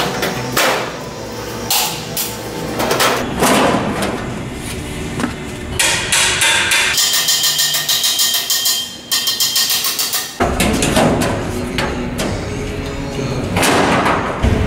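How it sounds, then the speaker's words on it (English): Hammers tap repeatedly on a steel body panel from a Ford XB Falcon being built as a Mad Max Interceptor Pursuit Special, loud close metallic strikes in fast uneven runs with short pauses between them. "I'll pop it out and just kind of tap on it with the hammers and stuff"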